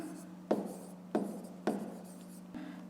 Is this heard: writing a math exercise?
yes